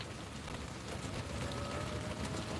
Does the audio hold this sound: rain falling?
yes